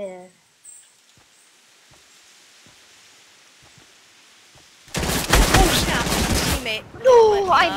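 Gunfire in the Fortnite video game: quiet at first, then a dense loud burst of rapid shots for about a second and a half, followed by another short sharp burst with a voice nearby.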